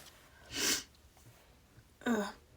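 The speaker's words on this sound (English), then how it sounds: "Pardon my sniffles, bro." Someone sniffles twice, short breathy bursts about a second and a half apart, close but quiet against a near-silent background.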